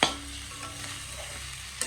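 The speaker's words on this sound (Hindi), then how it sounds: "अभी इसके अंदर जो आलू उबल के रखा था वो आलू डाल दिया।" Boiled potatoes tipped into a frying pan and stirred, giving a steady low sizzle and scraping with a soft clatter at the start and another near the end.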